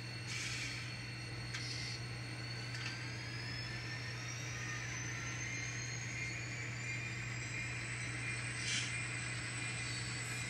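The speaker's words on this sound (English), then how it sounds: "Let's get that train rolling." Train rolling in a model railway simulator game, a steady low engine drone with a constant hum and rising high whine, continuous and fairly even throughout with no talk.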